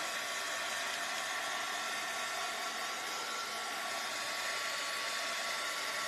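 A hair dryer blows steadily to dry paint on a framed DIY patriotic sign, giving a continuous close hissing whoosh throughout with no talking.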